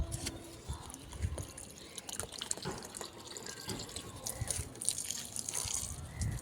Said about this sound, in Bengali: যা ছোটোখাটো গাছ আছে একটু একটু করে জল দিয়ে দিই এদেরকে